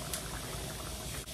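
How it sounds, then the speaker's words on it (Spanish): Rice boils hard in a pot on the stove, a close, continuous bubbling and churning of water with no voices. "Cuando el arroz ya esté hirviendo así"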